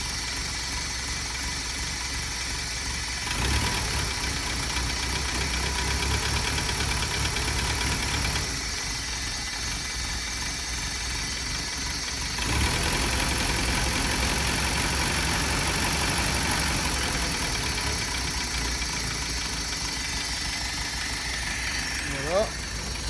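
Original engine of a Renault Monaquatre ticks over at a low, steady idle, a continuous mid-level hum with faint periodic knocking, while someone talks intermittently nearby.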